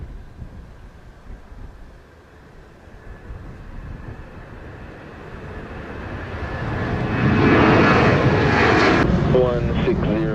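Jet airplane at Montego Bay airport in Jamaica, its engine roar swelling from faint to loud as it passes close, with air traffic radio chatter audible underneath.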